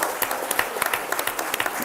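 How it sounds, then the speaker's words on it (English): Council meeting crowd giving a last round of applause, a short burst of many people clapping with sharp distinct claps over a dense steady patter, no talk. "one last big round of applause"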